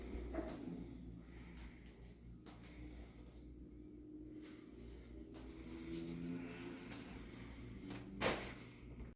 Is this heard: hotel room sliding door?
yes